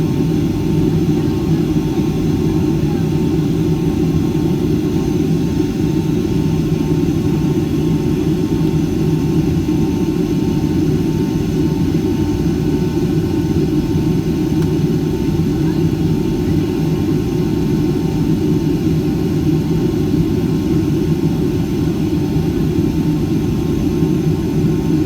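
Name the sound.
Icelandair Boeing 757 cabin noise in flight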